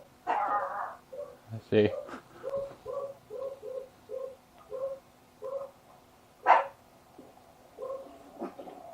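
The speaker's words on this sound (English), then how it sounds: "Told you he was going to start barking." A dog barks repeatedly in a fairly even series of short yaps, picked up by a Merkury smart Wi-Fi camera indoors, with a few louder sharp barks mixed in and a brief spoken comment near the start.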